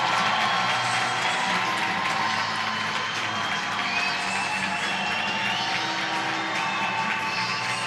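Hockey arena crowd at a women's hockey showcase game, loud sustained applause and cheering with scattered whoops, a dense continuous roar that holds steady throughout.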